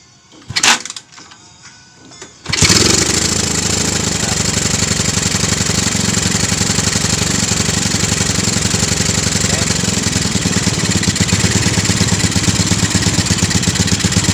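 A three-wheeler motorcycle engine catches after a brief start and then runs at a steady, loud idle, close by, with no talk over it.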